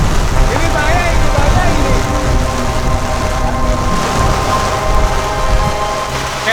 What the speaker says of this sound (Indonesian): Cuacanya badai super gila-gilaan ini ya.